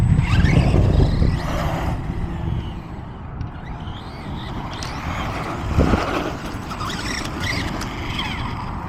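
A Traxxas Rustler 4X4 VXL RC car with a wide kit, 12mm hex and standard tires runs outdoors without its body, a loud whirring electric motor rising and falling as it drives, with tire and gravel noise.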